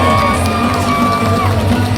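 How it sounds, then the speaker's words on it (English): An audience at an anime convention panel cheers, whoops and applauds for arriving guests, a loud, dense crowd sound over music. "Give a round of applause, everybody"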